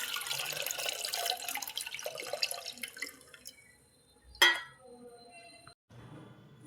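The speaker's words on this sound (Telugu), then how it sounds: "ఇలా ఫిల్టర్ పెట్టుకొని ఫిల్టర్లో ఫిల్టర్ చేసుకోండి వాటర్ని." Onion peel water runs through a filter, a close splashing trickle that thins out, broken by one sharp clink of a container, then a quieter drip.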